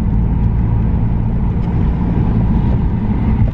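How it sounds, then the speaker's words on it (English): A police squad car passes on the road, its engine and tyres a steady, close rumble that swells slightly and fades, with no talking heard. "just had a squad car go past"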